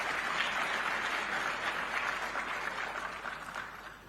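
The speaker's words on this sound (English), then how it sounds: "May we clap for him a bit more?" Audience at a private sector day event claps for the new Zambia Association of Manufacturers chairman, a soft, continuous wash of applause from a crowd at some distance, fading slightly toward the end.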